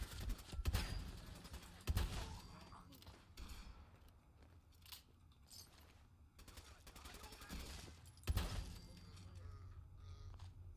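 Shotgun blasts in the video game Fallout 4, a few loud booming shots spaced seconds apart with rattling gunfire and clatter between them, heard alongside a player talking.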